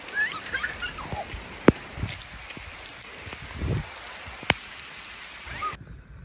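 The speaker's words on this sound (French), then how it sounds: "Bonne grosse pluie." Heavy rain falls as a soft, continuous patter with a few louder isolated drops or knocks, fairly faint throughout and cutting off abruptly at the end.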